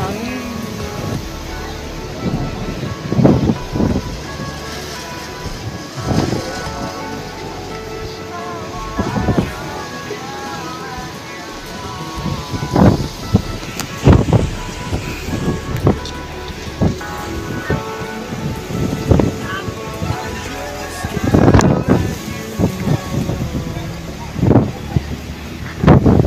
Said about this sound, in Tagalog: Basta mahangin.